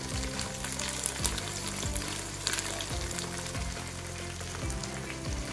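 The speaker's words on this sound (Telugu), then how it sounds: "కొద్దిగా పుదీనా వేసుకుంటున్నానండి" Mint leaves fry in hot oil for a Telugu chicken curry, a close, steady crackling sizzle with faint stirring knocks underneath.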